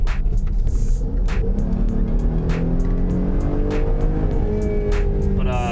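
Jeep Grand Cherokee with paddle shifters accelerating hard, a steady loud engine roar with rising tone and faint tire noise, continuous and close throughout.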